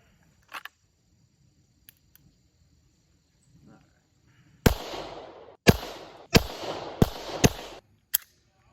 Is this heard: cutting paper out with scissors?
no